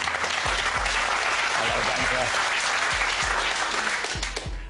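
A studio audience on the game show Deal or No Deal claps steadily for several seconds, a dense sustained applause with a brief spoken greeting over it.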